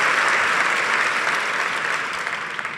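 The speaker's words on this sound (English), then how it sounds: "You're applauding because I'm still alive," An audience at a book festival applauds loudly and steadily, a dense wash of clapping that slowly fades toward the end.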